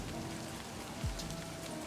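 Steady rain from the Livber: Smoke and Mirrors video game falls on a surface outside a house door as an even, continuous hiss, with a brief low thump partway through and no voices.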